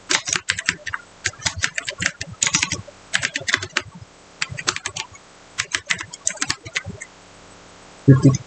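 Rapid bursts of keystrokes on a laptop keyboard, close and clear, arriving in irregular runs with short pauses, followed by a louder thump at the end.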